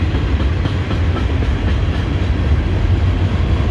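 An EMD diesel locomotive train passes close by in Folkston, Georgia, a loud, continuous rumble with wheel clatter and a heavy low-end roar.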